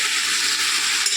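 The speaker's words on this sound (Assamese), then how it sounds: "বেছি নাভাজি আধা মানে ভাজিম" Karati fish frying in oil in a pan for a fish curry with cauliflower, potato and tomato, a dense close crackling sizzle that holds steady and loud for the whole moment.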